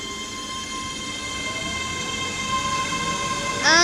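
A ScotRail Class 385 electric train departs Falkirk High station, a steady tonal motor whine rising gently under rail rumble, with a brief bright squeal near the end; no one speaks.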